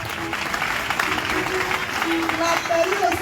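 A church congregation at a testimony revival service claps and acclaims together, a steady, loud wash of applause and crowd noise throughout, with voices mixed in.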